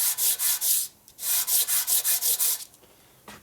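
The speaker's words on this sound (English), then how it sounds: "Sand it nice and flat." Sandpaper rubbed on a Harley-Davidson 1965 Panhead 74ci FLH motor part held flat on a table, in two bursts of quick, even back-and-forth strokes, the first of five, the second of eight, then a single faint stroke, close and alone.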